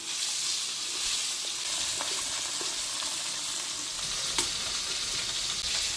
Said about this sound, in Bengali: মাছগুলি এখন আমি একে একে ভেজে নেব।